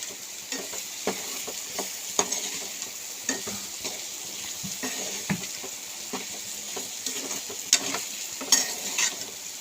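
Spices and coriander powder frying in a pan of pulagandha pulusu, a continuous sizzling hiss broken by regular scraping stirs of a spoon against the pan, close and fairly loud.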